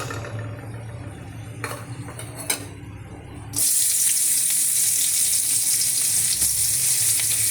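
Panch phoron spices hitting hot oil in a pan, a few faint clinks then an abrupt loud, steady hissing sizzle that carries on to the end.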